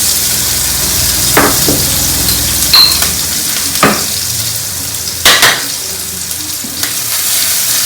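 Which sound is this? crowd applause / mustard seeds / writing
mustard seeds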